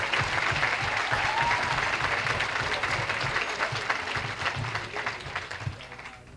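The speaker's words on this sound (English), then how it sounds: "how about a nice round of applause for our Master of Ceremony tonight, John Sullivan?" An audience at a farewell dinner event applauds the master of ceremonies, sustained dense clapping from a large crowd that holds steady, then tapers slightly toward the end.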